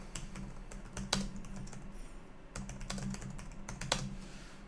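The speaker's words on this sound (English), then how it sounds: "Let me just type this in." Someone types on a computer keyboard in two quick bursts of crisp key clicks with a short pause between them, close and alone.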